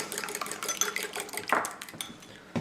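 Two eggs beaten in a bowl with a fork or whisk for scrambled eggs, a quick steady clatter of metal tapping against the dish, fairly close and fairly quiet, with no talking.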